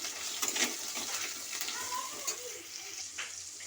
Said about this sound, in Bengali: তেল দিয়ে আমি ভেজে নিচ্ছি লাল লাল করে আলু